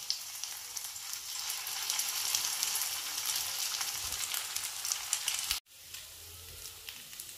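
Cheese and paneer upma patties shallow frying in oil, a steady close sizzle running throughout with a brief cut near the end before the crackle resumes, no voices.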